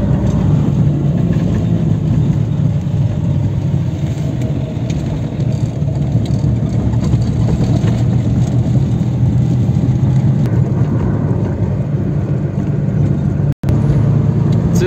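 A car drives along a highway toward Kyiv in fog, its steady loud engine and road rumble droning continuously up close, with one brief dropout near the end.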